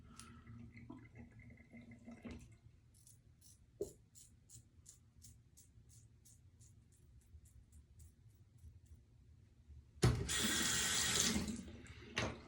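A bathroom tap runs water to wet the face before shaving, beginning with soft drips. Faint tones drift in the quiet background, then the faucet bursts on loudly and close for the last couple of seconds.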